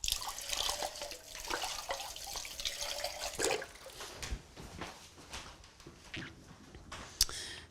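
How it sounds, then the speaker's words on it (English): Running tap water splashes steadily into a sink as a baby bottle is rinsed, a continuous close hiss with small clinks and drips, easing toward the end. "Just finally a little quick rinse under the tap to get rid of the bubbles."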